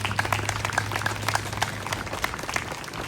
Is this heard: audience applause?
yes